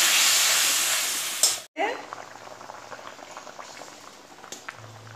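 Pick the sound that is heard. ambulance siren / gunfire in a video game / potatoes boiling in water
potatoes boiling in water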